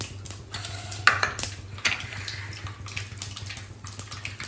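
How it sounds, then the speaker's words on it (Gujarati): Mustard seeds crackling in hot oil in a home kitchen pan while cooking poha usal: scattered small pops and sizzle, with a few sharper clicks of utensils, no talking. "તો રાઈ ચટકવા લાગી છે."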